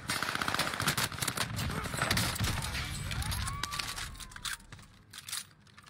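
Rapid bursts of video game gunfire, dense automatic shots crackling continuously and loudly, thinning into scattered shots near the end.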